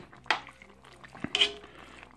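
Soup ingredients being stirred in a pot, with a few faint scrapes and light clinks of a utensil against the pot over a quiet background, no talk.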